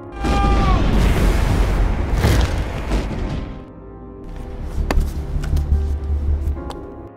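A time bomb explodes at a hideout in a film scene: a heavy, rumbling boom with debris-like crackle that swells, dips, then surges again with sharp bursts, loud and close, with no talk.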